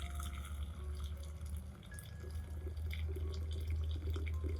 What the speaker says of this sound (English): Add it to 1 liter of boiling water.